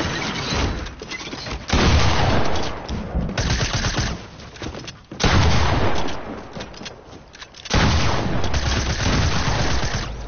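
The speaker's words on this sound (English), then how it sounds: "I'm also shooting with the freaking shotgun" Shotgun fire in the video game Fortnite: loud, dense bursts of gunshots come in several long stretches with brief gaps between them, close and harsh throughout.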